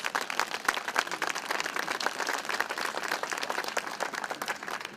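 Audience applause at a ribbon cutting for the Melnea Cass Apartments, a steady wash of many hands clapping throughout while someone speaks over it.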